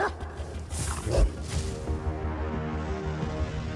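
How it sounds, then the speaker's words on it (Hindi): Hunting dogs bark and yip in a movie scene, with a cluster of sharp barks early on and a denser burst near the middle, then a steady low rumble of score underneath. "अगर आप कुत्तों का शिकार बन गए तो"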